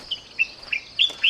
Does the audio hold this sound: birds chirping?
yes